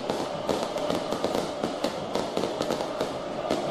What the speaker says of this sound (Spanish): De todos los fuegos artificiales, de las bengalas